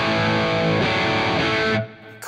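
Electric guitar through a Vox AC30 50th Anniversary amp with a Bluesbreaker overdrive pedal, a loud, mildly distorted strummed chord and notes ringing together before cutting off abruptly near the end.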